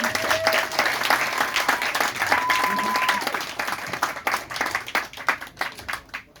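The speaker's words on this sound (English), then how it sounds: "Thank you, and a round of applause for Mr. Chris." Steady applause from a crowd at a live music show, dense clapping that thins into scattered claps toward the end, with a brief tone sounding early on.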